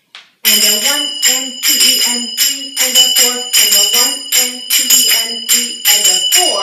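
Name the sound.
finger cymbals (zills) played during belly dance step touches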